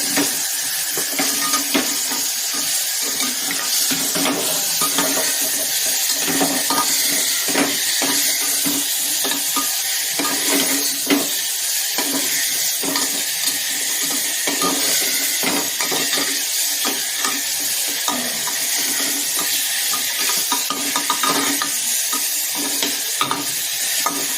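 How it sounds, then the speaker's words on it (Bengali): Garlic, onion, ginger, cumin, salt and turmeric are stirred in hot oil in a pan, a steady close sizzle with continuous rhythmic scraping of the spoon throughout, no talking. "আর এখানে আছে রসুন, পেঁয়াজ, আদা, জিরে, লবণ, হলুদ। এটা আমি এখন এটার মধ্যে দিয়ে 5 মিনিট নেড়ে আমি ঢেকে নেব।"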